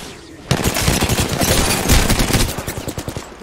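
Sustained enemy gunfire in Apex Legends erupts abruptly after a quiet moment, a dense burst of rapid automatic shots continuing for several seconds at close range and loud, with the volume stuttering as the firing keeps going.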